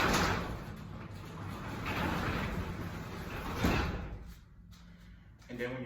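A residential garage door is pulled down manually, giving a long rolling, rumbling slide that swells and ends with a thud, followed by quieter room sound and a brief voice at the end.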